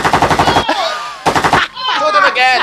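Loud close bursts of rapid machine-gun fire, two rattling volleys separated by a short gap, with voices heard between and over the shots during a comedy sketch.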